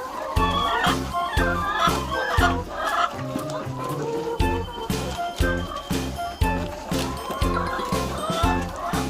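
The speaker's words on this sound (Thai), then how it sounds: "ชมบรรยากาศการให้อาหารเช้าของแม่ไก่ของเรา" Hens cluck busily in a coop during a 6 a.m. feeding of pellet feed, overlapping calls close by over a steady, rhythmic low thumping.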